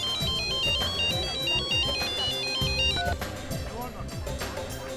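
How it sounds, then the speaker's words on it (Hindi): Mobile phone ringtone playing loudly and continuously, a repeating melodic electronic tune with a steady rhythmic beat, close by indoors. "आपका फोन बज रहा है।"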